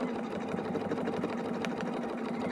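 A sewing machine stitching fabric with thread for a quilted wildflower pattern, a quiet, steady rapid whirring and clatter running continuously without talk.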